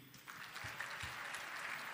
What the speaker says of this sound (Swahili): Naona makofi hayatoshi.